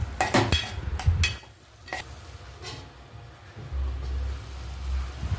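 Whole spices such as cinnamon, cloves and black pepper are stirred in a hot pan while making paneer butter masala: a few sharp scrapes and clatters up front, then a soft sizzle and a low rumbling hiss.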